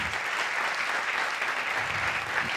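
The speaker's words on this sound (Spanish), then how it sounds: "un aplauso para él que ganó un pase de oro." Steady applause from a studio audience at a Colombian talk show, honoring a prize winner; dense, continuous clapping that stays loud and even for a couple of seconds with no talking over it.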